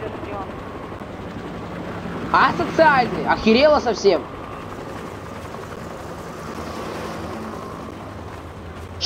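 A helicopter in the video game Half-Life 2 gives a steady, low rotor drone throughout, and someone speaks over it for a few seconds in the middle.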